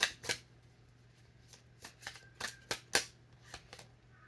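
Tarot cards being shuffled and drawn up close: a sparse run of crisp papery snaps and flicks, some sharp and some soft, spread unevenly over a few seconds above a faint steady hum, with no talking.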